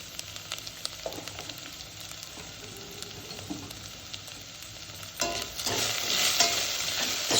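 Turmeric powder stirred into garlic and ginger paste frying in a pan for khichdi: soft scraping stir sounds and light ticks, then a louder sustained sizzle rising near the end, close by with no talk.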